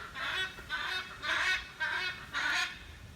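Hyacinth and blue-throated macaws call at London Zoo, five harsh, rasping squawks in a loose rhythm, moderately distant and fairly faint.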